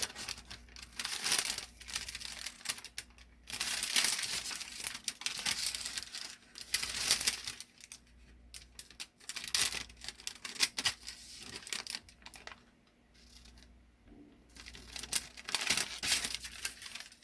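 Scissors snipping through parchment paper while lining the bottom of a cake baking tin, a close series of crisp crinkling cuts and rustles with brief pauses between bursts, no voices.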